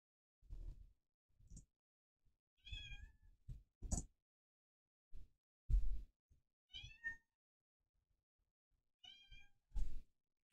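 A cat in a Minecraft SMP game meows several times in short, separate calls spread across quiet gaps, each clear and close with soft low thumps between them.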